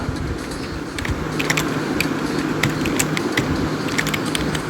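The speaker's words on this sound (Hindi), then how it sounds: "मान लीजिए यहाँ पर टाइप कर रहे गोवा" Typing on a computer keyboard while entering data in Excel: a steady patter of crisp key clicks over a noisy, humming background.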